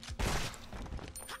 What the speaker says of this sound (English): I heard gunshots. Gunshots.